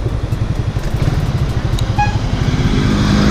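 Suzuki Raider R150 FI motorcycle engine droning steadily at low RPM while riding and shifting up through the gears, a loud, close, continuous buzzing hum with slight pitch wavering and a faint high tone near the middle.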